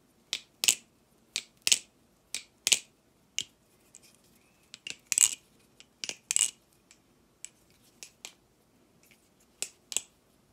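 A tuned Nabalis Morse balisong knife is flipped, giving a series of sharp, crisp metallic clicks and taps in irregular bursts, close and fairly quiet with a muted character and no talking.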